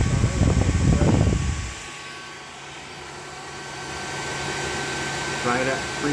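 Portable Nomad II air compressor running while charging a Benjamin Bulldog .357 air rifle to 3000 PSI, with a burst of loud rough noise at the start, then a steady, moderately loud mechanical hum with a faint whine.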